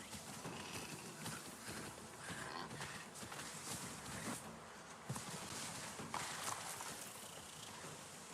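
A dire horse clip-clops steadily through the video game Avatar Frontiers of Pandora. The soft, even hoofbeats sit under a dense, hissy wash of ambient game sound.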